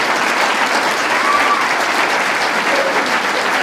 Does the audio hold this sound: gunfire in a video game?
no